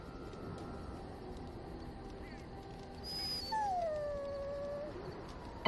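A dog in the Dragon Age: Origins video game gives a rising then falling whimpering howl over steady game background ambience, near and moderately loud in the second half.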